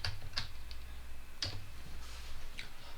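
Light, sparse clicks of a computer keyboard as code is typed for an Arduino servo and nRF24L01 joystick demo, a few quiet taps spaced irregularly over a low steady background hum.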